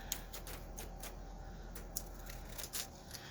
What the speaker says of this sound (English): I got my pinking shears out.